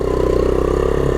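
A small 70cc 1970 Honda Trail 70 motorcycle engine labors steadily up steep trail terrain, a close, continuous mid-pitched drone with a buzzing, pulsing exhaust throb and no pauses.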